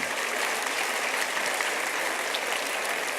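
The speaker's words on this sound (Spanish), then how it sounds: "No sé exactamente qué aplauden" Dense, sustained audience applause fills a lecture hall evenly from start to finish, a thick wash of many hands clapping with no speech.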